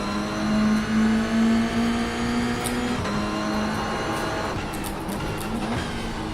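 A Lamborghini GT3 V10 engine in the iRacing simulator holds a steady, droning high-revving note, dips briefly on a shift and then climbs again, loud and continuous with no talk.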